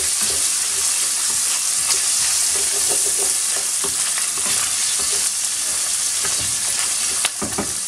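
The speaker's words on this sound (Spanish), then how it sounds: "Removemos un poquito." Chopped garlic frying in a pan for chicken chilindrón, a loud dense sizzle with steady stirring scrapes and a few sharp clinks of the utensil, heard up close without speech.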